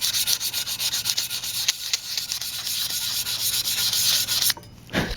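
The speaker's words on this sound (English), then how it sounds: "you're gonna get your 220 grit sandpaper, this right here, and just take some, and then, you know, apply it on top." Sandpaper of 220 grit rubs steadily across a painted BMX bike frame in continuous close, scratchy back-and-forth strokes, stopping briefly near the end before one last pass.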